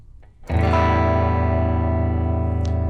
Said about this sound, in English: If I were to move it to the middle, I'm now using both pickups at the same time.